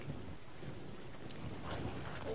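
Steady rain with low rumbling thunder inside the survival game The Forest, a continuous dense wash of drops with a soft rolling rumble underneath, no voices.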